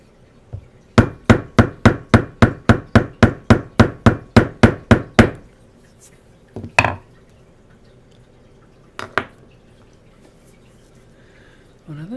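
Small hammer from a pen repair kit striking a pen part on a cutting board: a quick run of about fifteen sharp, evenly spaced taps, followed by a few scattered knocks.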